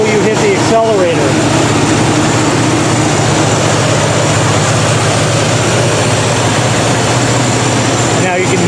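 Buick engine idling steadily after a warm start, a constant low heavy drone with a loud fan roar on top, heard close and continuous throughout.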